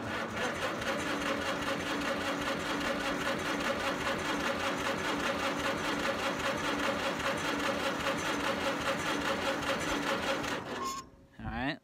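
An old shop machine's engine, its battery freshly trickle-charged, cranks with a steady rapid mechanical chatter for about eleven seconds without catching, then cuts off abruptly.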